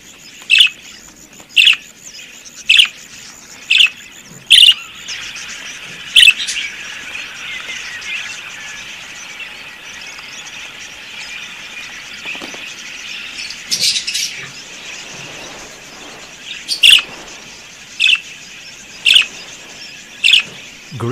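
Wild Australian budgerigars singing in open country, giving sharp, regularly spaced chirps over a soft continuous warbling chatter of the flock that runs throughout.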